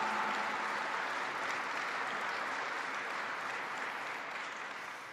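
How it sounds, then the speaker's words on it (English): Troops of the 10th Mountain Division applaud during a vice presidential speech, a dense, even roar of many clapping hands that slowly fades toward the end. "So give yourselves a round of applause."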